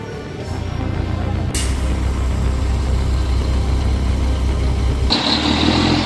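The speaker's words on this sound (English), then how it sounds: "SITAKXR200D heavy-duty tractor is pulling a giant crane up a 30-degree slope." A SITAK XR200D heavy-duty tractor hauls a giant crane up a steep 30-degree slope, its engine a loud, sustained low rumble and drone that shifts in tone as the load strains, with no voices.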